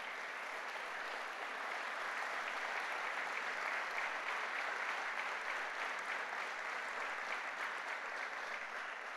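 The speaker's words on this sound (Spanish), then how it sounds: "Denle un fuerte aplauso a Jesucristo por esto." A church congregation applauds in a steady, dense wash of clapping that holds at an even level throughout, sounding moderately distant with no clear voices over it.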